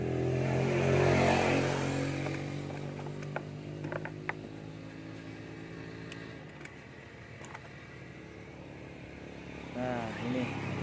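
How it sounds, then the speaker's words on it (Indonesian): A motorcycle engine with a faulty throttle position sensor idles and revs unevenly, its steady mechanical drone rising and falling close by, with someone talking over it throughout. "Ini yang menjadi motor tarikan gasnya itu setengah gas bagus, di pol gas malah motor kayak kurang bensin"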